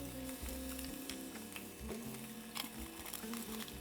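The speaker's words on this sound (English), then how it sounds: "For the red sauce, we're gonna toast the tomatillos, the tomatoes, the onion," Tomatillos, tomatoes and onion toast in a pan for taquería-style red salsa, crackling and sizzling quietly with small pops and faint, steady hiss throughout.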